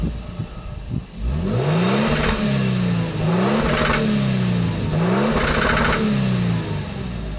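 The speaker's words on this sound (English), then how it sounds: "here's what a petrol LandCruiser sounds like." A petrol V6 engine in a 2023 Lexus LX600, a LandCruiser-based SUV, revs repeatedly from idle, each loud rising whine climbing and falling back in a steady cycle of three or four revs with no talking.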